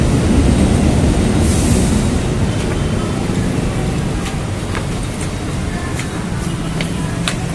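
A train runs along the railway line below, heard from above as a steady, loud rumbling roar with faint metallic squeals and clicks of wheels over track throughout.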